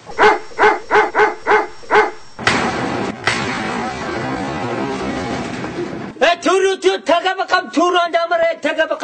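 Big dogs bark loudly and close by in quick rhythmic runs of barks, first at the start and again at the end, with people talking in between.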